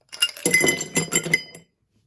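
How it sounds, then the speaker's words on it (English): Ice cubes tumble into an empty glass for Thai iced tea in a quick rattling cluster of bright clinks, close and loud, then stop. "In a glass, I'm going to pour in ice cubes"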